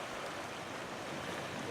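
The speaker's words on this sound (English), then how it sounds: "We got a lot of rain yesterday, and so the creek is really flowing." Beaver Creek in Ohio, swollen after heavy rain, rushes past as a steady, broad wash of flowing water, faint and unbroken.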